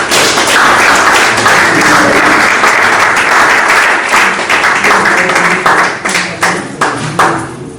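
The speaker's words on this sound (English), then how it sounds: "I want us to give Prof a round of applause" Sustained applause from an audience at a university mathematics department event, a dense wall of clapping that holds steady and then thins out toward the end.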